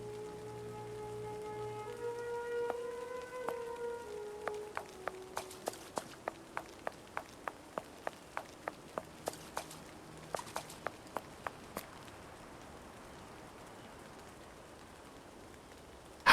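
Rain patters steadily on hard ground outside a storeroom door in a Sherlock Holmes video game set at the Tower of London, the faint wash broken by a run of sharp, evenly spaced footstep-like taps.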